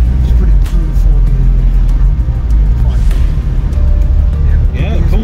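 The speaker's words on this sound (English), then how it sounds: "It goes, and you can hear the turbo from the outside" A Lotus Elan M100 drives past outside with its turbo audible: a loud, steady engine rumble with broadband road roar that holds constant throughout, heard close.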